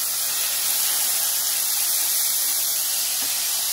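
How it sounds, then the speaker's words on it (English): Peppers and other vegetables sautéing in a pan, a constant loud hissing sizzle like steady spray, unchanging across a few seconds, close up with no talking. "now we're going to go ahead and add our vegetables. All your peppers. Go ahead and get all that sauteed."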